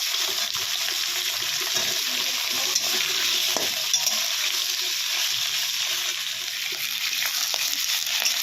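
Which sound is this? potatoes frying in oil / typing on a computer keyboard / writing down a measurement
potatoes frying in oil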